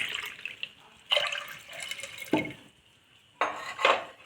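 Four tumblers of water poured into a cooking vessel for Rajasthani kheech, a wheat dish, giving several separate splashing pours with clinks and clatter of pots between them, close and fairly loud, with no talking.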